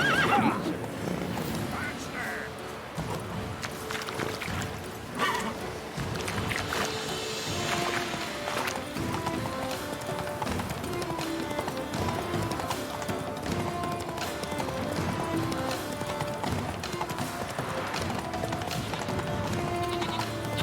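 Roach, a horse in The Witcher 3: Wild Hunt, whinnying and galloping, with rapid clip-clopping hooves under loud whinnies over a busy game soundscape.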